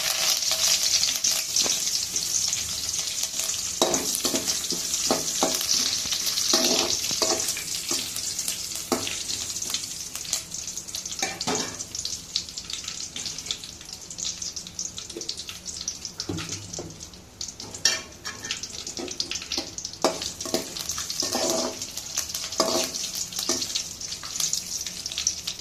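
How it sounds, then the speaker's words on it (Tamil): Dried red chillies and curry leaves fry in hot oil for rasam, crackling and sizzling continuously with scattered sharp pops and spits, close and moderately loud, with no voice. "வரமிளகாய், கருவேப்பிலை போடுறேன்."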